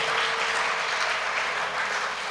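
Congregation clapping at a Unitarian Universalist service for International Women's Day and Women's History Month, a brief, even burst of many hands clapping together, moderately loud and continuous.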